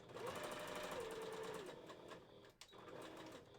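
Sewing machine running a seam on a fabric wolf partial head, a faint, steady rapid hum of stitching that pauses briefly near the end before resuming.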